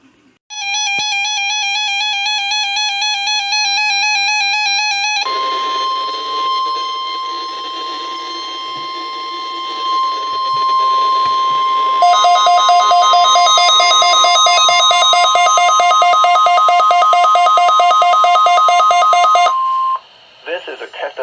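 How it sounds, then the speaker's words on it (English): Shrill electronic weather radio warning alarm tones from a Weather Service test sound continuously and loudly, shifting from a pulsed high pitch to a steady single tone, then a dense warbling pattern, before cutting off abruptly. "This is a test of the Weather Service weather radio warning alarm"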